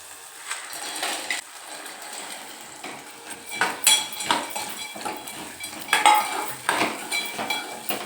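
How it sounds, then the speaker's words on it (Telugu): Roasted chickpeas (putnalu) tossed with chili powder in a pan for a chaat snack, with loud, irregular scraping and clinking of a spatula against metal and a soft sizzle underneath. "కొంచెం వేయించాలి"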